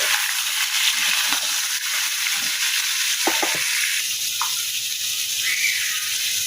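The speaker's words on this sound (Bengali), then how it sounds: "রসুন কুচিটা একটু ভাজা ভাজা হবে" Chopped garlic frying in a pan gives a steady, close sizzle that runs throughout, with a few soft clicks of stirring and no talk.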